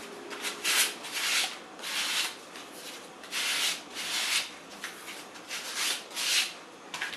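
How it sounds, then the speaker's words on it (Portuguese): Sandpaper rubbed by hand along the edge of an MDF box lid makes close, rhythmic scratchy strokes, around ten bursts with short pauses between them and no voices. "Eu só vou passar aqui a lixa perto da bordinha"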